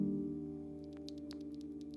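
Switches on a Royal Kludge RK R65 mechanical keyboard give a few soft, creamy clicks in quick succession, fairly quiet against a steady low hum.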